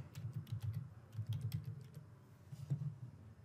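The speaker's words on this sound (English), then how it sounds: "I will simply write Mautic" Fingers type on a computer keyboard, quiet close-up key clicks in quick irregular bursts with a short pause midway, no voices.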